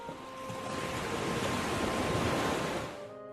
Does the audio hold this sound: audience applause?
no